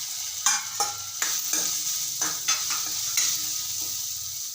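Dry spices being stirred into a frying khichdi snack in a pan, a steady sizzle with a series of sharp spoon scrapes and clinks repeating close by.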